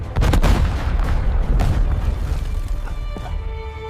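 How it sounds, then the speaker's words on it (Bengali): A grenade goes off in a Hulk cartoon with a loud close boom, followed by a crackling rumble that slowly trails away while faint tonal sounds linger underneath. "পিছনে গ্রেনেড"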